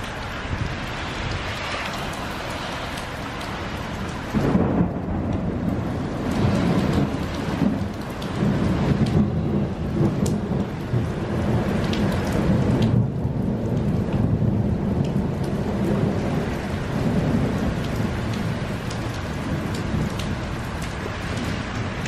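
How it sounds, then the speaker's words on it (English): Heavy rain pours steadily while deep thunder rolls and rumbles overhead, loud and continuous throughout. "get a load of that thunder"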